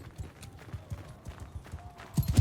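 Horse hooves pound in rhythmic clip-clop beats in the Mount & Blade II Bannerlord video game, a steady gallop that grows louder and heavier near the end.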